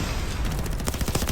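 Rapid gunfire from the Call of Duty Mobile video game rattles in a dense, continuous burst, loud and close, with quick repeated shots piling over one another through the short stretch.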